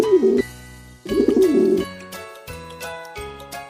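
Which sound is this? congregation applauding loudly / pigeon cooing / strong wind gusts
pigeon cooing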